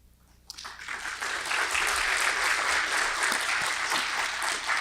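Audience applause at a speaking event rises abruptly after a brief lull and holds as a steady, dense, full-room clatter of many hands, fairly close and loud, with no talk over it.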